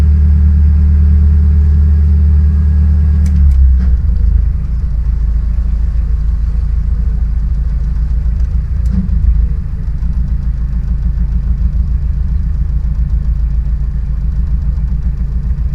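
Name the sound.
boat engine running in canal lock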